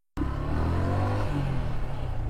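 A Suzuki Gixxer motorcycle engine starts up abruptly and runs close by during a test drive, a loud steady low drone with a slight rise in pitch.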